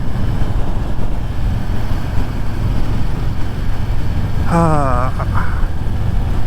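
Harley-Davidson Street Bob 114 motorcycle riding in fourth gear, with a steady, loud, broadband engine and wind roar throughout and a brief higher whine or horn-like tone near the end.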